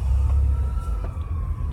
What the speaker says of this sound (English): Oh, the sirens are wailing.